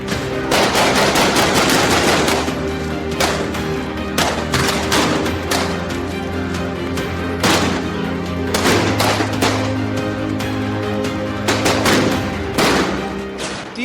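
Rapid bursts of gunfire, about 30 rounds, crack out again and again outside a house in Rohini, Delhi, many sharp shots in quick irregular clusters, loud and echoing over a low background hum.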